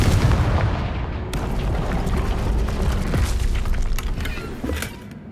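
Bombarda and Confringo spell explosions in the video game Hogwarts Legacy come as loud, dense booming blasts with rumble and crackling debris, continuous across the clip.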